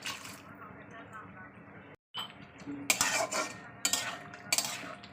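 A brass mortar and pestle being rinsed with water, with close metallic clinks and splashy scrapes that grow sharper and more frequent toward the end, following a brief pause.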